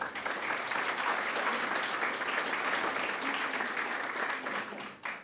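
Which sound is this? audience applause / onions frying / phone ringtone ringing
audience applause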